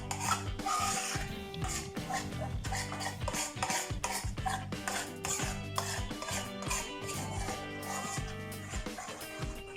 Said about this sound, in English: So you put it and mix it with the paste that you just made.